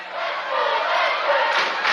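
A packed high school basketball crowd of about 1,700 roars steadily in a 1987 gym game between CalHi and La Serna, a dense, loud wall of cheering voices throughout.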